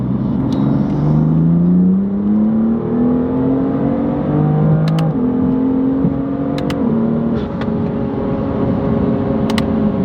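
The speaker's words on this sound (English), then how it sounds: "Overall, intake sounds cool." A BMW F8x with an S55 engine and aftermarket ARM intake roars and climbs in pitch as it accelerates through the gears, with a steady throaty intake drone filling the whole stretch.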